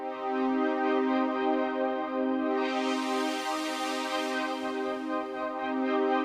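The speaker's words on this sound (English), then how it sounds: "If I move that XY axis while I'm playing, it will change the parameters and change the sound like this." Native Instruments Analog Dreams synth holding a sustained chord with steady stacked harmonics, its tone brightening and filtering open then closing again as the XY parameters are moved; no voices.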